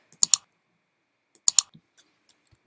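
Typing on a computer keyboard: two short clusters of crisp, close key clicks separated by a pause, followed by a few scattered lighter taps.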